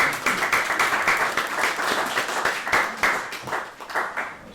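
A conference audience claps together in a steady burst of applause after a talk, dense and close, lasting a few seconds.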